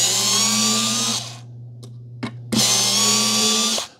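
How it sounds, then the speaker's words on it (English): A SKIL 4V Pivot Grip cordless screwdriver running in reverse to back screws out, giving two steady whirring bursts of about a second each, close and loud, separated by a short pause with small clicks. "And then just switch it like this to take the screws out."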